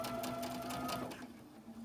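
A sewing machine stitches fabric pieces together in a steady, fast whirring hum with a rhythmic needle patter, close by and continuous, easing slightly toward the end.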